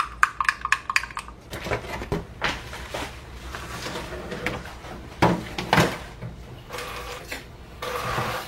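A spoon stirs a mayonnaise sauce thinned with cucumber pickling liquid in a bowl, giving quiet clinks and scrapes in irregular bursts close by, with no talking.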